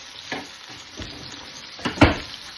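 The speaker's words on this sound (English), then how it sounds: "once my onion is cooking" Chopped onions frying in a pan for daal, a soft steady sizzle broken by a few louder stirring scrapes, close and without talking.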